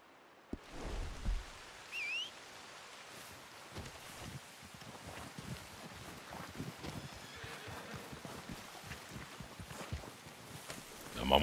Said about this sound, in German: Schön Regen, mieses Wetter.